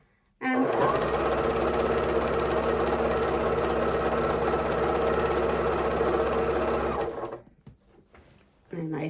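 A sewing machine runs in one steady, loud burst of fast mechanical stitching on quilt pieces, starting sharply and stopping after several seconds, followed by brief quiet handling.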